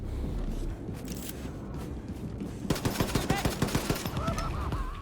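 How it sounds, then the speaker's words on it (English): A nail gun fires in Wolfenstein: The New Colossus as a rapid series of about ten sharp, metallic clacks in quick rhythm, following a stretch of muffled game noise and short squawking sounds. "And so that's the nail gun."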